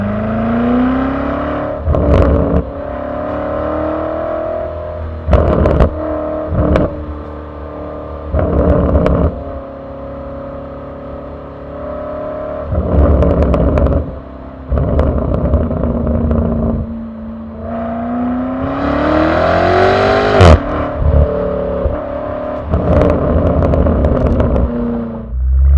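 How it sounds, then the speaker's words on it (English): BMW G90 M5 fitted with a Meisterschaft aftermarket exhaust on a cold start, its engine holding a steady high idle between repeated sharp throttle blips that rise and fall, loud and close. "We'll do cold start, some revs, some exterior shots"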